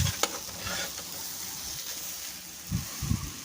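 Cornflour is worked into a vegetable chop mixture with soft, close squelching and scraping strokes, quiet and irregular, with a couple of heavier thumps near the end.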